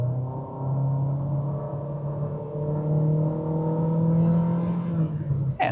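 A 2020 Honda HR-V EX SUV accelerates at full throttle, its engine drone climbing steadily in pitch for several seconds, loud and close from inside the cabin, ending with a brief clunk.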